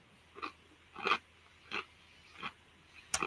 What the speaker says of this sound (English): That's me chewing on ice